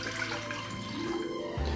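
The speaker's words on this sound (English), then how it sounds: "So into a pan I'm adding my water." Water pours into a pan in a steady, moderately close stream, splashing and gurgling continuously, ending with a slight change in tone as the flow finishes.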